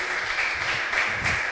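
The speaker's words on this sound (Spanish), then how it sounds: "vamos a dar un aplauso" An audience at a talk by a former video game magazine editor applauds steadily: a continuous wash of clapping at moderate volume, short and even throughout.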